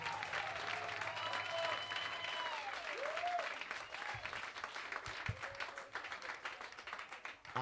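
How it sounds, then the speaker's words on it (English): An audience applauds at a live evening tribute event, a dense, sustained wash of clapping from a full crowd that thins slightly toward the end. "Another round of applause, Mr. Duane Lee Howard."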